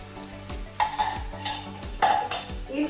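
Chopped onions and green chillies with garam masala fry in a pot, a close sizzle under repeated rhythmic stirring scrapes and clinks of a ladle against the metal, with no voices.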